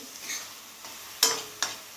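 A spoon stirs and scrapes thick tomato masala for chole in a pot, giving a few soft scraping strokes over a faint sizzle, then two sharper clinks against the metal.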